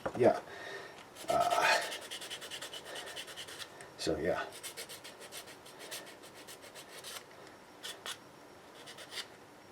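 Rough rasping strokes of sanding a 3D-printed part come in bursts, then shorter scratchy passes, with a voice speaking briefly nearby.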